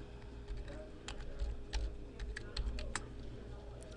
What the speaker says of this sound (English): you simply type in the email address that you accepted your invitation with, and then the password that you created